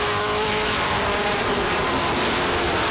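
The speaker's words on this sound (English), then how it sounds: "Drag race off turn 4, here they come" Race cars at Star Speedway accelerate hard off turn 4 in a close drag race, a loud, dense roar of several engines sustained throughout with rising revs and a hint of tire squeal.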